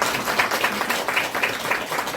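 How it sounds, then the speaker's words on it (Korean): Steady applause from an audience at a seated gathering honoring a guest, dense patter of many hands clapping at moderate distance, even and sustained without speech. "박수 한번 쳐드립시다."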